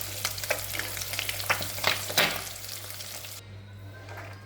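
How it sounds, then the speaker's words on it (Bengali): Eggs sizzle and crackle steadily in hot oil in a pan for a few seconds, close up, with bursts of spattering and a constant low electrical hum beneath; no one speaks. "তো ডিমটা ভাজা হোক"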